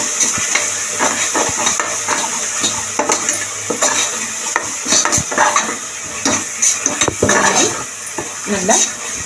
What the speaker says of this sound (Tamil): தயிர் சேர்த்துட்டு நல்லா அப்படி கெட்டியாகாத மாதிரி மிக்ஸ் பண்ணி எடுத்துக்கணும்